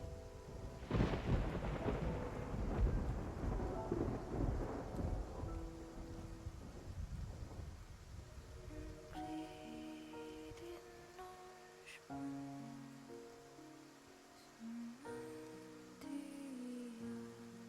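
A thunderstorm at sea in Love and Deepspace: a heavy thunder crash rumbles near the start over steady rain and wind, then fades under a rising melodic musical score.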